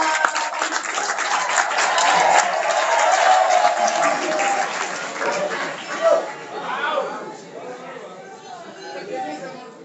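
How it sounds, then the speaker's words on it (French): A seminar audience at a mid-year business rally claps loudly in a full, sustained round of applause, thinning toward the end as murmured chatter and voices emerge. "Applaudissons très fort."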